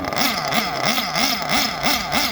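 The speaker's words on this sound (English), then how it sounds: "I was doing a little bit of revving here and there." A nitro-fuelled RC car engine is being broken in on a rich fuel mixture, with smoke coming from the pipe. It revs loudly and close up in quick, evenly repeated surges, with about seven rising and falling whines over a steady buzzing idle and no talking.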